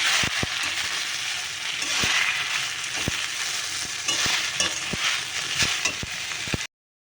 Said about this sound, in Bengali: পাট শাকটা নাড়াচাড়া করে নিয়েছি এবার শাকটা দিয়ে দিলাম